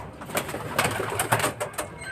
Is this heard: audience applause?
no